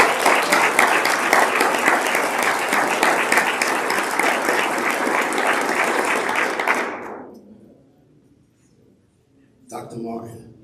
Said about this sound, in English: give everyone who had a hand and a mind and some energy and planning this conference a loud round of applause